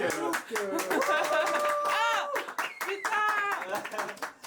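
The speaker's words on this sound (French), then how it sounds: "on applaudit Anouk" A small group of people in a room clap to welcome someone who walks in, scattered handclaps mixed with laughter and excited overlapping voices.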